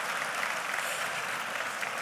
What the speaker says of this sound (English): let's give ourselves an applause, a round of applause.